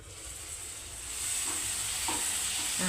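Tomatoes cooking down in a pan for a dried shrimp tomato curry give a steady close hiss of sizzling, joined near the end by a few soft scraping stirs.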